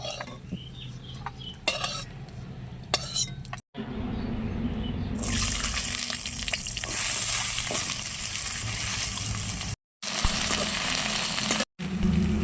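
Loud, continuous sizzling of fish frying in hot oil, preceded by light stirring and clinks, with a few brief gaps in the sound.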